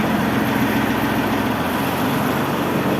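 A Japanese mini tractor's engine runs at a steady idle, a close, continuous low rumble with an even mechanical chug and no voices.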